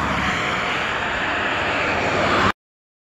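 A Babetta 210 moped engine labors uphill with a steady, loud droning buzz and constant wind rush, running unbroken for about two and a half seconds before cutting off abruptly into silence.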